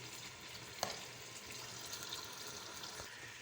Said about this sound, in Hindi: ये तो आलू हमारे थोड़े थोड़े फ्राई हो चुके हैं